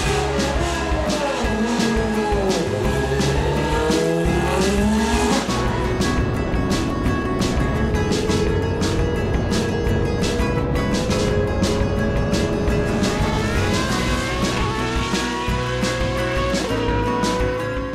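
A Formula 1 two-seater race car accelerates hard at full throttle, its engine note climbing loud and sustained through upshifts, heard up close from onboard for the whole stretch.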